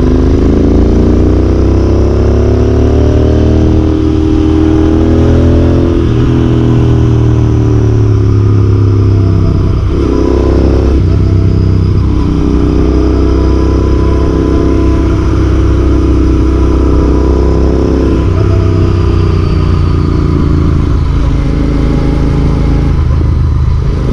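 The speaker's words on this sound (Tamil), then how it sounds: "நம்ம ஒரு அழுத்தி பார்க்கலாம் எப்படி தான் இருக்குன்றது வண்டி." A Royal Enfield Interceptor 650 twin motorcycle revs and pulls hard under acceleration, its deep throbbing exhaust loud and close for the whole stretch, rising and easing through several throttle surges with no talk over it.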